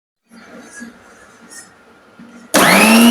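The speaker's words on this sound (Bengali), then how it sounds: "এখন হচ্ছে প্রথমে সবকিছু একবারে ব্লেন্ড করে" A kitchen blender grinding homemade meat box dough ingredients, including optional milk powder, snaps on loudly after a quiet stretch of faint background noise and whirs steadily at close range to the end.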